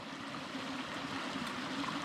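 A pump pushes creek water through a garden hose on a homestead, giving a steady gurgling, trickling flow with a low mechanical hum underneath, close and continuous with no talking.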